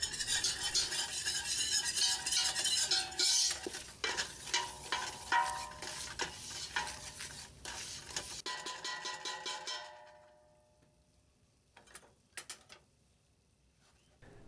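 Flour stirred into melted butter for a roux makes a rapid, rhythmic scraping and sizzling that stops after about ten seconds, followed by a few quiet clicks.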